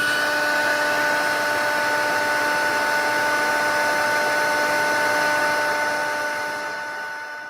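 A heat tool for card-making crafts blows with a steady, loud, whining hum and a few constant tones, running unbroken before trailing off at the end.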